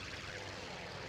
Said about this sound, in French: Voilà, c'est les bombardiers en piqué.